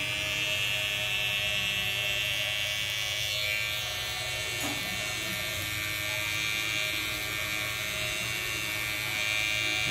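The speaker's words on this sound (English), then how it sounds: "shape up around the ear with my trimmer" Electric hair trimmer buzzing steadily and close while a barber shapes the hairline around the ear during a mullet cut, a constant high-pitched hum with slight shifts as it moves.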